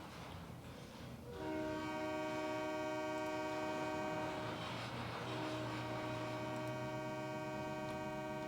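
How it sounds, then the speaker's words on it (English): A slow-moving train sounds a long, steady horn chord that swells loud after a quieter first second and holds for several seconds, with rumbling rail noise underneath. "Slow moving train"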